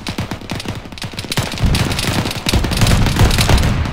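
Bursts of rapid video game gunfire crack and rattle, with booming thuds building into a dense, continuous barrage.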